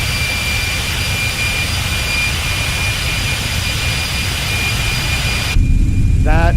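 Boeing 747 jet engines spool at takeoff thrust in a flight simulator game, a loud, steady roar with a high whine, then a sudden cut to a lower rumble near the end.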